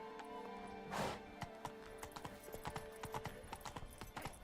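Roach the horse runs in The Witcher 3, with a steady run of clip-clop hoofbeats over a low game background and one brief soft whoosh near the start.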